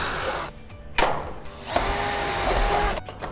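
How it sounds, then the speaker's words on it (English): A power drill fires rivets to fix a steel downpipe onto the gutter dropper of an Absco single compact garage shed, in two loud close whirring bursts with a short pause between. "last thing now is just to rivet our downpipe into place."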